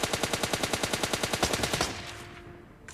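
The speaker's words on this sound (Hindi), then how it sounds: "अपार्टमेंट से आ रही थी फायरिंग की आवाज" Rapid automatic gunfire in a video game, with a fast, evenly spaced burst lasting nearly two seconds and then fading out into the game's background sound, loud and close.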